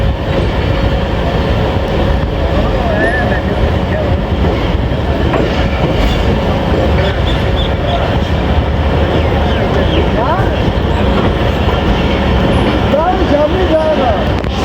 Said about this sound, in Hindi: अब सुबह रफ्तार रेल कार के क्रॉस के बाद झेलम रेलवे स्टेशन से डिपार्ट कर रही है ए डाउन तेज़गाम